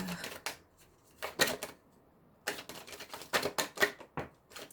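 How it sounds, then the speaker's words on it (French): Tarot cards being shuffled by hand during a love-themed reading, coming in several bursts of dry riffling and flicking with short quiet gaps between them, close and fairly soft, with no talk. "j'aimerais qu'ils me laissent brasser les cartes"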